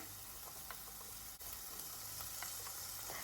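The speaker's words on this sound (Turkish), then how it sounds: "Sebzeleri öncesinde bir 3-5 dakika kadar kavuracağım, soteleyeceğim." Vegetables sauté in olive oil in a soup pot, a soft continuous sizzle with faint scattered pops and light stirring, fairly quiet and without speech.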